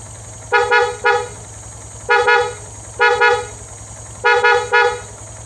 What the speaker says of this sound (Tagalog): Ang busina nga pala natin ay Boss Horn. Napakalakas nito.